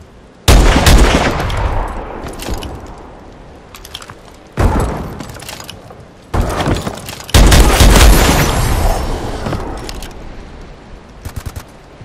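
Loud, sharp sniper rifle shots in Call of Duty: Advanced Warfare crack out one by one, each followed by a rolling echo, with a few quieter shots near the end and no talking.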